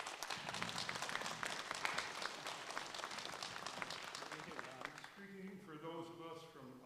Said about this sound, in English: the applause indicates it's shared by the rest of you